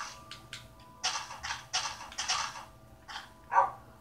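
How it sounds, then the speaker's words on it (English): A dog in the video game Minecraft, a series of short yips and barks in clusters, moderately close, with no talking over them. "Hello, doggy. Don't worry, I'm finding you a bone."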